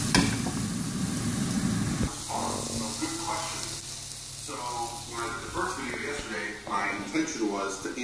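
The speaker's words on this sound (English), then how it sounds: "Now I'm just going to put it on the frying pan." Cut-up chicken sizzles and hisses loudly in a hot frying pan for a couple of seconds, then keeps crackling more quietly while a person talks over it.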